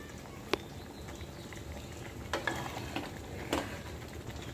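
Masoor dal with drumsticks simmering in a pan gives a soft, steady bubbling hiss, broken by a few brief, sharp clinks from a utensil, with no one talking.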